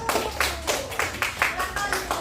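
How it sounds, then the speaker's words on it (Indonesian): A classroom group claps for classmates after a presentation, a short burst of quick, fairly close hand claps in uneven rhythm lasting a couple of seconds. "tepuk tangan untuk kelompok 1"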